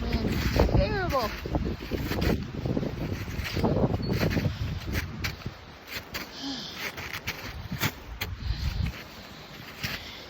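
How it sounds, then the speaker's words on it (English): Strong wind gusting across the microphone on a winter hike near a waterfall, a loud continuous rushing roar that rises and falls, with a voice speaking briefly near the start. "That wind is terrible."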